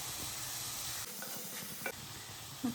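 Green chillies hit hot oil in a frying pan for a mussel (kallummakkaya) fry, giving a continuous close sizzle with a couple of light stirring clicks.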